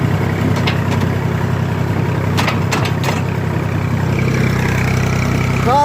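Steady droning engine of a tractor without power steering pulling a roller across a bumpy 10-acre field, loud and continuous with occasional rattles and knocks.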